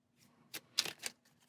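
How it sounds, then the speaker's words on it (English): Horror cards from a board game are shuffled up close, giving a few quick, crisp riffling bursts in a quiet room, each a brief papery flutter with short pauses between. "Then we'll go ahead and shuffle up our horror cards"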